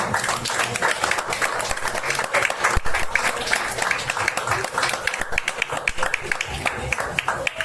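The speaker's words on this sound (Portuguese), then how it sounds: "Aplauda o nome do Senhor nessa noite." Congregation clapping at a special church inauguration service in Belford Roxo, a steady wash of many hands filling the room without pause.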